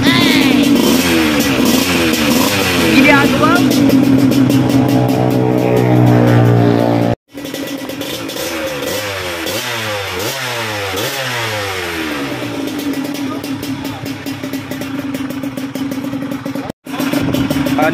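A 125cc motorcycle set up for racing revs hard at close range, its engine note climbing and falling in repeated sweeping bursts, with two brief cut-offs where the sound drops out before the revving resumes.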